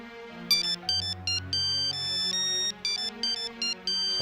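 A phone ringtone plays a repeating electronic melody in short bursts, loud and close, with no voices over it.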